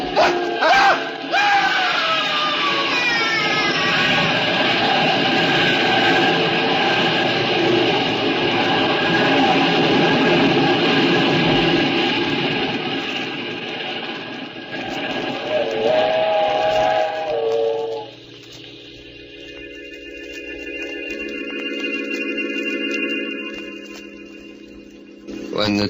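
A steam train thunders past with its whistle shrieking in a 1940s radio drama sound effect, loud and continuous, then the rumble fades and a thinner whistle tone lingers before trailing off.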